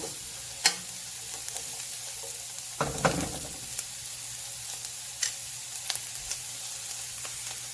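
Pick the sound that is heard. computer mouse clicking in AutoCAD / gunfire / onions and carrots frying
onions and carrots frying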